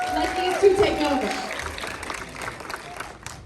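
Audience applause at an early movie screening in Cleveland, a broad steady clapping wash filling the room for a few seconds with some voices mixed in.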